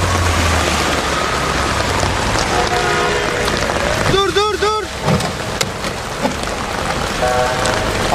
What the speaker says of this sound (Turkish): 8 saat boyunca hiç durmadan yağdı.